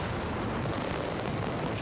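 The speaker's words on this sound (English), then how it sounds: "Valencia launches one of Europe's greatest aerial firework barrages" A Las Fallas aerial firework barrage in Valencia, a dense continuous roar of overlapping booms and cracks, loud and unbroken.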